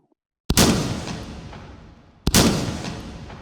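Two booming shotgun blasts of double-aught buckshot in the VR shooter H3VR, each a sharp crack with a long fading tail, the second about two seconds after the first, loud and close after brief silence.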